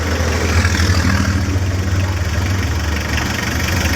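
A Mitsubishi 4D56 diesel engine idles steadily and loudly under test for a non-charging alternator, its low, even knocking rumble running unbroken with no talk.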